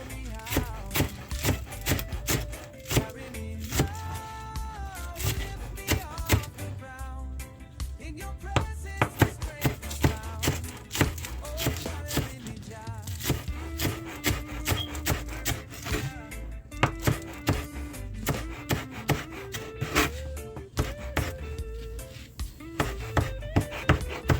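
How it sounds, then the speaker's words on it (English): A knife chops garlic on a board in rapid, uneven bursts of sharp taps, close and fairly loud, with musical tones running underneath. "Cut my garlic."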